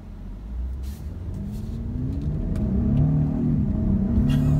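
A 2018 Genesis G80 Sport pulls away from a stop sign under hard throttle, its engine note rising steadily in pitch and volume from inside the cabin, with no talking over it.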